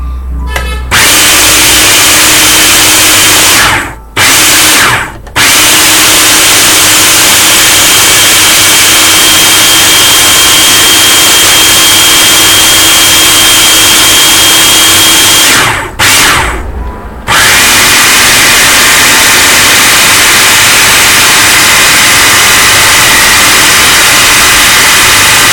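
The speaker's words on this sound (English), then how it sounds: "we're cautious because we're using a food processor" A food processor grinds almonds into nut butter with a loud, harsh, continuous whirring roar, heard close, that cuts off briefly twice as the machine is stopped and restarted.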